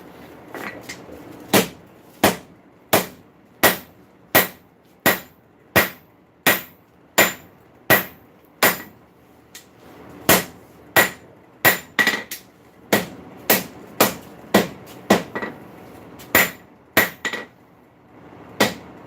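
A hammer rings on hot metal while a nail header is forged, sharp metallic strikes landing in a quick, regular rhythm, around thirty blows with a short pause midway, close and loud.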